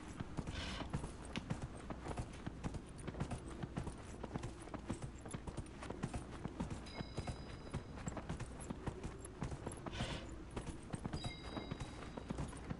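Steady, rapid hoofbeats of a galloping horse in the video game Dragon Age: Inquisition pound on without pause, with faint electronic tones drifting in now and then.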